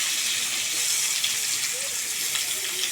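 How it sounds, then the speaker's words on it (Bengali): Two medium onions, chopped, sizzle in hot oil seasoned with a bay leaf for a rustic silver carp curry, a steady bright hiss running evenly throughout with small crackles. "এই পর্যায়ে দিয়ে দিচ্ছি দুটো মাঝারি সাইজের পেঁয়াজ কুচি।"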